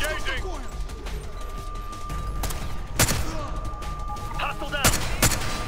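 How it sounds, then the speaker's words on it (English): Sniper rifle fire in the video game Ghost Recon Future Soldier, several sharp cracks spread out over a few seconds amid a busy battle mix, with voices shouting over the shots. "This sniper rifle can shoot through the boxes."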